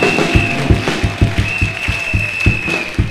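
A church congregation applauds the Lord, a steady run of rhythmic hand claps from many people in unison, loud and close with a faint sustained tone behind.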